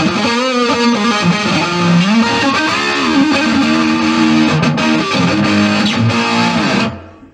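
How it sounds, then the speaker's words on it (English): A Line 6 Spider IV 15-watt guitar amp on its insane channel delivers a thick, heavily distorted electric guitar riff that plays continuously and loudly, cutting off abruptly at the end. "we've got the insane tone here, which is just line 6's own distortion"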